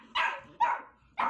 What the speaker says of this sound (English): Mama was worried that Ernie didn't know how to bark